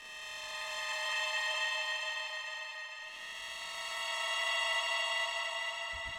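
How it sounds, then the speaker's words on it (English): Mandriola sample played through a Roland P-6 granular engine, a sustained shimmering bright drone of stacked tones swelling and fading in two long waves, with a soft low thump at the end. "here's what that mandriola sample sounds like now that it's put through the Granular engine."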